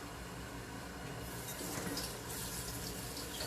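Squash being rinsed under a running kitchen tap, heard as a steady, fairly quiet stream of water splashing with no talking.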